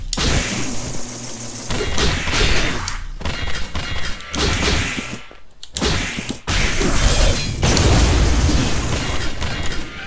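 Business-card explosives thrown by Asaru in the action game Assault Spy detonate in a rapid string of heavy booms and thuds, each blast loud and close and crowding into the next.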